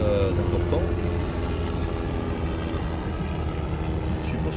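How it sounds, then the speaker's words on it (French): A helicopter flies overhead, producing a steady, loud rotor and engine roar that fills the whole stretch without fading. "Hier, c'était le parapente à moteur, là, c'est l'hélicoptère."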